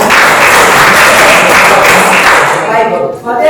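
Sustained group applause from students in a classroom, a close, dense wash of hand claps that thins out before a voice speaks at the close.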